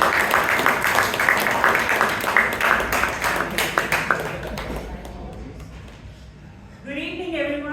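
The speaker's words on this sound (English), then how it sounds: "A loud round of applause." Applause from an audience at a Toastmasters meeting in Bangalore, a dense steady patter of many hands clapping for several seconds before fading, then a voice begins speaking.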